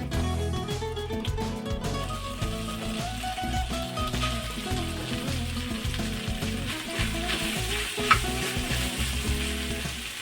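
Gram flour stirred into a hot fried tempering for a dried-prawn telagapindi dish, giving a steady close sizzle with continuous stirring and scraping throughout, and a brief sharper knock near the end.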